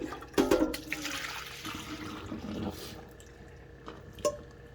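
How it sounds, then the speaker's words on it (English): Liquid dye for Sufix 832 braided fishing line is poured out of a container, giving a short splashing, gurgling pour with a few drips, close and moderately loud. "Let me pour this out."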